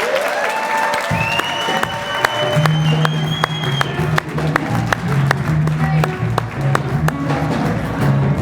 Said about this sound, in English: a very big round of applause for Dr.